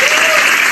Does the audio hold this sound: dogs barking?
no